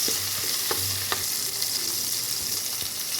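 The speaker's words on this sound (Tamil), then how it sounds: "ரெண்டு நிமிஷம் நம்ம இந்த தக்காளி வெங்காயம் அது எல்லாத்தையும் போட்டு வதக்கி விட்டுக்கலாம்" Tomato and onion sautéing in a pan, a continuous close hiss of sizzling with occasional light stirring taps and scrapes, no voices present.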